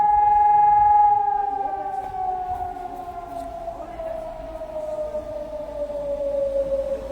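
Civil defense warning siren test in Germany, a long steady wailing tone slowly falling in pitch, heard at a distance outdoors with faint background sounds and no clear talk.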